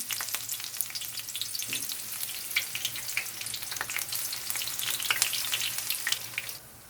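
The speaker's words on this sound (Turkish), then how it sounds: "Patlıcanları arkalı önlü kızartalım." Eggplant pieces sizzle and crackle steadily in hot oil, a close, bright frying hiss with scattered pops throughout.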